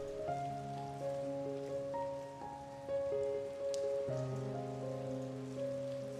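Steady rain patters softly and evenly throughout, with sustained musical tones layered over it and no talking.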